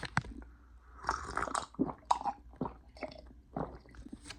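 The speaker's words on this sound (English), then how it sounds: "One second, I need to drink water." A person drinking water up close: a series of wet sips, gulps and swallowing clicks in irregular bursts, fairly quiet, with no talk.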